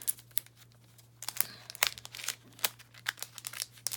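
Hunky Dory craft kit packaging, holding a stamp set, embossing folder and die, being pulled open: close, crisp plastic crinkling and tearing in irregular bursts, quiet at first and then busy, with a steady low hum underneath.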